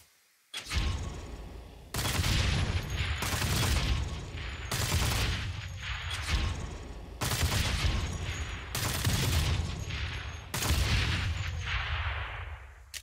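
Gunfire in the video game Saints Row (2022): repeated loud bursts of rapid shots in several long volleys separated by brief pauses, dense and close with no talking.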